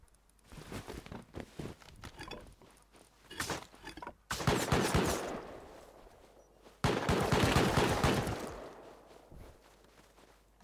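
Automated turrets in the survival game Rust fire rapid, loud bursts, with two long dense volleys and scattered shorter shots between them, plus some light footsteps and rattling.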